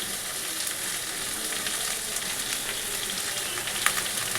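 Pointed gourd and potato fry with green chillies in a pan, giving a continuous close sizzle with light crackles and a single sharper pop near the end, no talk.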